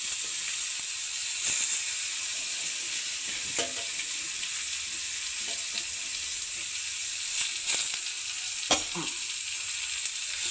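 Curry leaves and green chilies frying in oil for a kohlrabi dish, a continuous crackling sizzle with occasional sharp pops and light stirring scrapes, no speech.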